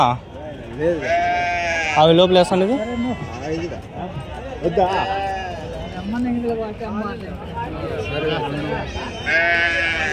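Several goats bleat repeatedly at a weekly goat market in Angallu, close and loud, mixed with people talking over them.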